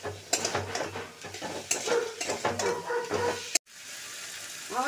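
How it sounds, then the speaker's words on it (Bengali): Boiled potatoes are tossed and stirred in a pan with a metal spoon, giving close scraping and sizzling strokes at an irregular rhythm. A sharp cut-off follows, then a quieter steady hiss. "এবার আলুগুলো দিয়ে একটু কষাবো।"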